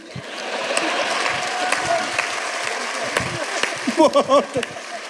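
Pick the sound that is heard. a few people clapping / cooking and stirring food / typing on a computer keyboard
a few people clapping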